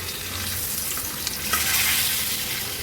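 Pomfret fish shallow-frying in hot oil in a pan, Agri Koli style, giving a loud continuous sizzle and crackle, with a brief clatter as the fish is turned.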